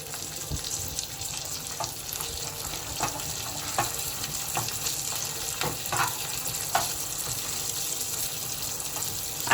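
A dal dosa mixture of mixed pulses with asafoetida sizzles and bubbles in a pan on a gas stove, a steady moderate crackle broken by scattered small pops and stirring clinks, with no talking.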